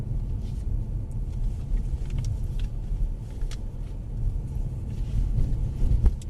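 A Mercedes A-Class drives slowly around a track with the throttle eased back, a steady low engine and road rumble from inside the car, swelling slightly near the end.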